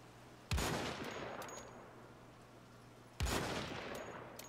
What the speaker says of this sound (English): Oh, I do. I do shoot them.